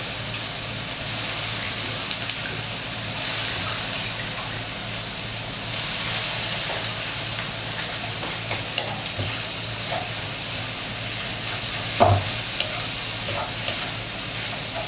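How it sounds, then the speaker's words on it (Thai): Cabbage stir-fried over high heat in a wok for a noodle and egg dish gives a steady, loud sizzle with the rustle and scrape of constant stirring, plus a few sharper clinks, with no talking. "เปิดไฟแรงเลยนะครับตรงนี้ เพราะว่าเราจะผัด ให้กระหล่ำปีมันสลบแล้วก็เอาขึ้นนะครับ"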